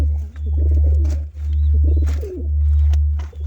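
Pigeons coo softly and repeatedly in a loft beside a newly hatched pigeon chick, the calls close and rising over a steady low hum.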